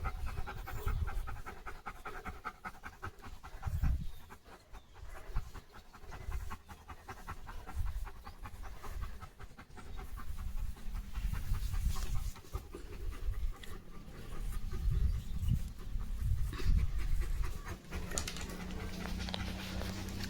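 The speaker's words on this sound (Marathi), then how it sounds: "लिओ थांबा बस खाली दम लागला तुला" A German shepherd pants heavily and rapidly in a steady, close rhythm across the whole stretch, with a few soft whimpers mixed in; no one talks.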